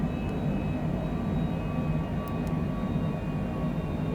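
A simulated aircraft engine in Microsoft Flight Simulator 2020 holds a steady, dense roar through the throttle on a landing approach at Auckland, continuous and even throughout with no talk.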